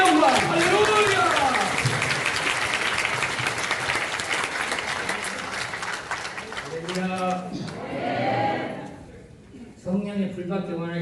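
A church congregation breaks into loud, sustained applause, a dense wash of clapping that carries for several seconds, with a voice speaking over it and the applause thinning toward the end.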